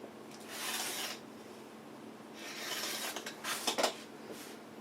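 Scissors cutting lengthwise through folded fabric, heard as quiet, close shearing swishes in two spells, the second ending in a few sharper snips, with no talking.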